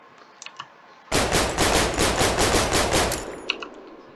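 Sustained automatic burst of medium-caliber gunfire in the Warium video game, a rapid steady string of loud, close shots lasting about two and a half seconds, with faint clicks before and after.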